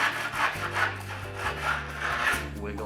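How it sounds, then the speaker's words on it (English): Hand tool scraping all the way around a wooden longboard, rhythmic rasping strokes in quick succession, close and loud, with no voices. "We're gonna scrape it all the way around."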